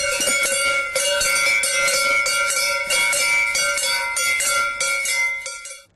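Traditional church bells ringing in a dense, overlapping peal, loud and continuous with strong ringing tones before fading out at the end.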